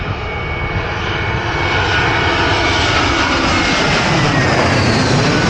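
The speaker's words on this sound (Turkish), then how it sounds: "Bakın arkadaşlar uçağım geliyor." A loud, steady roar of an airplane engine overhead, a broad continuous rush that swells slightly and holds throughout with no talking.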